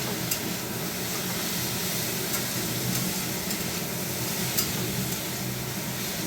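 Bitter gourd and potato slices frying in a pan, a dense, even sizzle holding steady throughout with faint occasional crackles and no talk.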